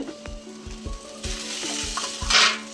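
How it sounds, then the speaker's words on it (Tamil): Onions sautéing in a pan for a tamarind kuzhambu, a loud close sizzle broken by rhythmic scraping strokes of a spatula, swelling into a brighter hiss near the end. "வெங்காயம் பாருங்கள் நல்லா வதங்கிடுச்சு"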